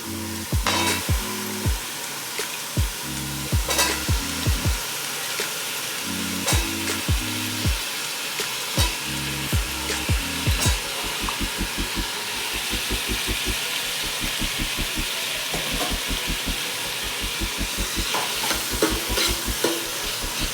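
Potatoes and vegetables fry in oil with a continuous hiss, broken by repeated rhythmic stirring and scraping strokes in the pan and occasional sharp clicks, loud and close throughout.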